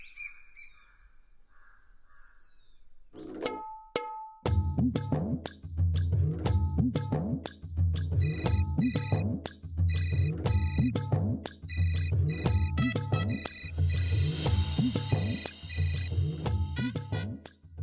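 A phone ringtone plays as a loud, repeating electronic melody with a steady beat, starting after a few seconds of near-quiet and continuing without a break to the end.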